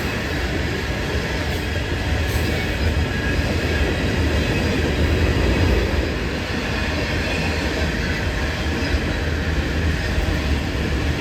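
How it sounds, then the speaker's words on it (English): A mixed freight train carrying different kinds of cargo rolls past nearby, a continuous loud rumble of wheels and rail cars with faint squeals, sustained throughout. "this is another mixed freight with all different kinds of cargo"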